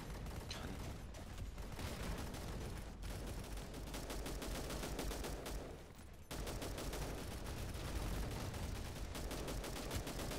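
Rapid, dense gunfire in a video-game firefight, loud continuous bursts of shots with mechanical clatter, briefly dipping near the middle before resuming at full intensity.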